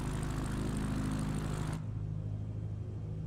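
Propeller aircraft engine in Microsoft Flight Simulator 2024, a steady droning hum with harmonic tones that drops abruptly partway through to a lower, quieter idle rumble, no voices.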